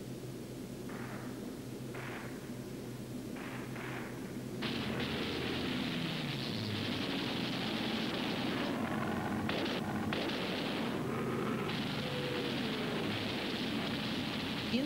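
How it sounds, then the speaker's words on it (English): Phosphorus bombs and flak bursting around a B-29 Superfortress in wartime, heard as a dense, continuous rumble of distant explosions and crackling blasts under a steady roar, growing louder and denser midway. "But here come some modern symbols, phosphorus bombs, and flak,"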